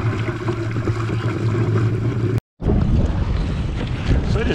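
Strong gusty wind roars across the microphone aboard a Hobie Tandem sailboat on a river, with a steady loud rush and water noise that cuts out briefly before returning.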